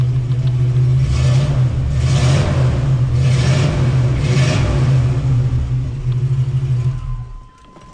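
A 1984 Hurst Olds V8 with Flowmaster mufflers on its dual exhaust revs up four times in quick succession over a steady, loud idle rumble. The engine settles back and fades toward the end.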